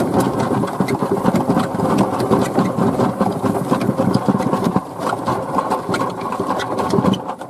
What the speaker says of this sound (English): The rattling you might hear is the hose reel on the back of the golf cart.